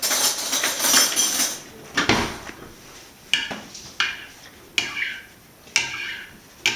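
Pizza tomato sauce with fresh ground black pepper being mixed in a bowl, a hurried clatter of utensil scraping at first, then a run of sharp, evenly spaced clinks against the dish, close and fairly loud, with no voices.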